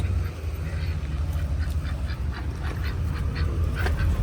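Repeated duck quacks ring out over a loud, constant rumble of wind or background noise, several calls spread across the moment.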